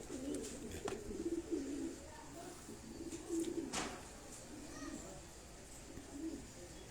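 Soft, low cooing from Bateera breed pigeons repeats in gentle rolling phrases, fairly quiet, with a few faint clicks and taps around it.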